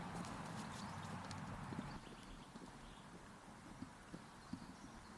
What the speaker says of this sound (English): this is definitely a horse that is irritated and frustrated